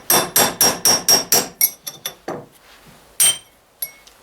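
Close, loud hammer strikes on the front wheel hub bearing of a Ford 800 tractor, six evenly spaced metallic blows followed by a few slower, scattered clanks with ringing steel overtones.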